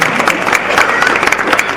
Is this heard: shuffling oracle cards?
no